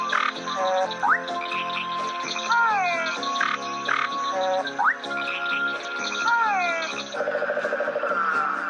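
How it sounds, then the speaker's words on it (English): Frogs croaking in a 1994 children's TV programme, repeated rhythmic croaks and rising chirps layered with a light musical backing, recurring in two similar phrases before a faster pulsing trill at the end. "the frogs are here to make their froggy sound"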